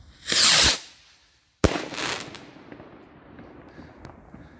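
A salute battery and bird-scarer firecrackers go off in two loud, close reports. A short, blaring burst comes first. After a brief silence, a sharp bang follows, with a rumbling tail that slowly fades.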